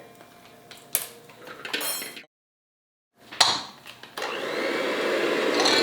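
Butter being creamed until light and fluffy for an apple cider bundt cake: kitchen clatter and knocks, a short silence, then a steady whirring machine drone that starts up and holds to the end.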